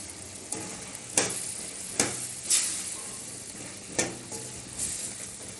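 A spoon stirs ground chilli, coriander and garam masala spices into mutton gravy in a pan, with a steady sizzle under a handful of sharp scraping taps spaced irregularly, close and fairly loud.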